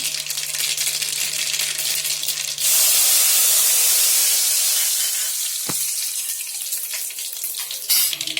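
Curry leaves torn by hand hit hot oil with a sudden loud, hissing sizzle that swells sharply, then slowly settles into a steady crackle, with a brief clink and a fresh flare of spitting near the end.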